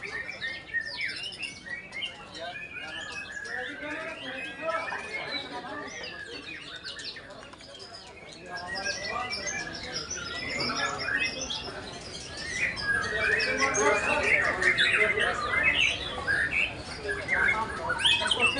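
Oriental magpie-robin (kacer) birds singing at a songbird contest, a dense overlapping chorus of chirps and warbles that swells louder in the second half, with voices talking in the background.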